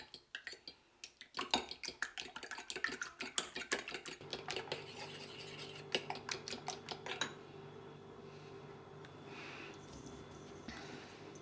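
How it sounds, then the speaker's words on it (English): Eggs are cracked into a bowl and whisked lightly with a fork, giving a quick run of sharp taps and clicks against the dish that fades to a faint hum. "Now I'll crack the eggs and whisk them lightly using a fork."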